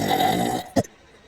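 Short burp from a plush toy, voiced in a playful belching skit: a single brief, fairly loud belch follows a stretch of dense, busy sound, then fades to quiet.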